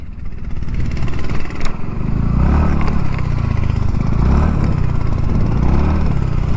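A TVS Ntorq 150 scooter engine runs steadily up close, a low continuous rumble with slight revving and faint rattling over the whole stretch.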